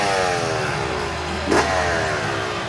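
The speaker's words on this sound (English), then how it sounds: "There's music in the air when the Red.Bull-X-Fighters kickstart their 2-stroke engines" Red Bull X-Fighters motocross bikes at an event in Rome rev their two-stroke engines. The pitch sweeps and falls in a loud, continuous wail, with a brief sharper burst midway and no voices.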